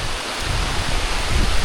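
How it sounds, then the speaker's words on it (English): Heavy rain pours down steadily on the Appalachian Trail during a thru-hike, a dense, continuous close wash of falling water with no voices. "And the rain has begun. The heavens have opened up."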